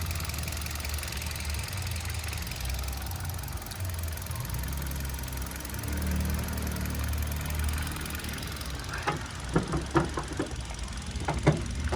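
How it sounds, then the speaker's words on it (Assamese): A 2020 Hyundai i20 Elite's engine idles with a steady low rumble, joined in the last few seconds by a cluster of sharp clicks and taps nearby. "ইঞ্জিনৰ কণ্ডিশ্যন চাওক ইঞ্জিনৰ চাউণ্ডটো শুনক"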